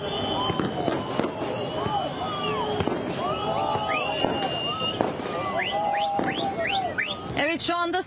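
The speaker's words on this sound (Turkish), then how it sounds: "Binaya iki kez havai fişek saldırısı oldu." Fireworks thrown at a building in an attack near the Israeli consulate bang and crackle repeatedly amid whistling rockets, with a crowd shouting and voices talking throughout.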